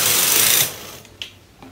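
Carriage of a Brother knitting machine sliding across the needle bed during weaving, a loud rushing mechanical swish for about half a second, followed by a few faint clicks and taps.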